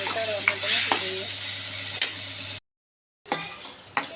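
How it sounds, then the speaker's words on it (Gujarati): A vegetable sizzling as it is stirred in a pan, with a steady frying hiss and scraping stir strokes, a short silent gap, then more stirring and clinks; voices can be heard faintly. "શાક વઘારી નાખી આપણે હવે તળવા માટે મૂકી દઈએ."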